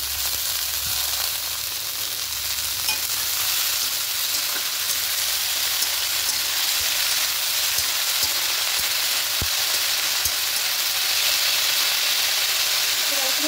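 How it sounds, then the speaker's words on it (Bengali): Red amaranth greens fry in a pan with chopped onion and green and red chillies, giving a steady, even sizzle and hiss that runs throughout with a few faint knocks. "এবার শাকগুলো দিয়ে দেবো।"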